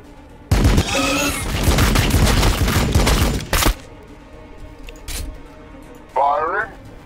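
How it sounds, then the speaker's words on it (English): Gunfire from the Warhammer 40k Battlesector video game: a loud sustained burst of rapid shots lasting about three seconds, followed by a few isolated single blasts, with a game voice line and other speech heard between them. "Firing."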